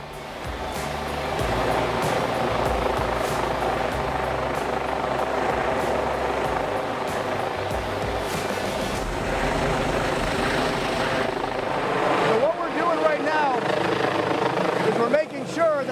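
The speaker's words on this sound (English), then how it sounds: "rotor wash coming from the helicopter's blades, which can make a rescue very tricky" Rescue helicopter rotor thumping loudly nearby, a steady rapid chop with engine whine, while a person talks over it.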